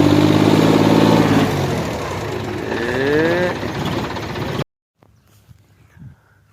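A tractor hauling a dumper trailer up a slope roughly 25 to 30 feet high, its engine labouring loud and close and shifting pitch as it climbs, then cutting off abruptly to near silence.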